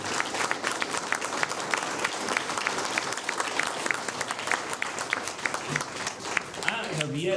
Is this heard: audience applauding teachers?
yes